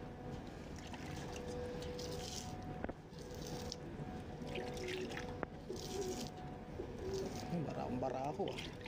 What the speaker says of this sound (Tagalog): obserbahan natin ngayon yung kalapati natin kung ilan na ba ang nagpares